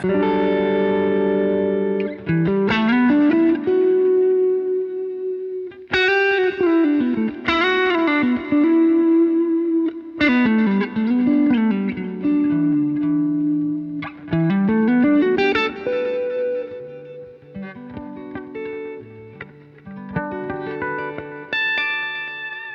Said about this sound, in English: bit of a nice reverb. I'm going to take the damping up slightly.